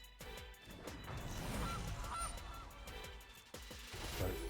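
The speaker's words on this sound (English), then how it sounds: "Lots of geese." A flock of geese honks repeatedly at a moderate distance, calls overlapping in an irregular chorus over a steady background, with no voices.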